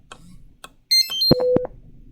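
Barcode scanner beeps after a scan, a short cluster of bright electronic tones followed by a sustained steady tone, clear and close over quiet room noise.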